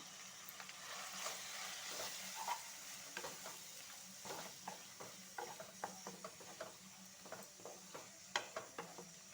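Chicken liver frying in oil with turmeric and chili powder, a soft steady sizzle under repeated scraping and stirring taps of a spoon against the pan, close and fairly quiet.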